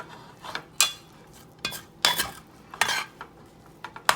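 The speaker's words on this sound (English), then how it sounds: "So you just want to stir everything up" Chicken fried rice with corn and peas stirred in a skillet: a handful of close, sharp utensil scrapes and clinks against the pan in uneven bursts, with no sizzle.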